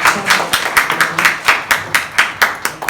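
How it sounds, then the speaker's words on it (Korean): Youth congregation at a Sunday church service clapping in encouragement, a fairly loud, steady rhythmic group clap of about fourteen beats alone with no talk over it. "격려의 박수 한번 쳐주시면 될 것 같습니다."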